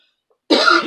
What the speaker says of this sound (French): J'ai toussé un peu.